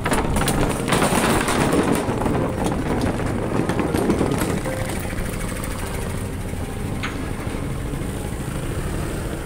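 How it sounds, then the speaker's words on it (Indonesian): Motorboat engine at a river ferry crossing near Pontianak: a loud, steady, broadband drone that runs throughout without letting up. "Oke, itu motor air."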